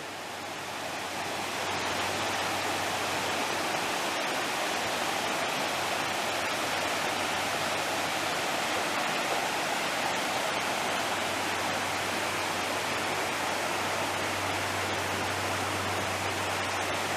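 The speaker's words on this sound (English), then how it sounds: "Here's a view of the Rose River coming down the mountain." The Rose River rushing down a mountainside in Shenandoah National Park, a loud, unbroken roar of flowing water that holds steady and close for the whole stretch.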